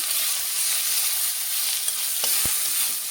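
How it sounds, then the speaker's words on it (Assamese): Khaseng tenga leaves fry in hot oil with a steady, close sizzle throughout, broken near the end by a couple of sharp clinks from stirring. "এয়া এই টেঙা পাত কেইটামানো দি দিছোঁ। ভালকৈ ভাজি ল'ম।"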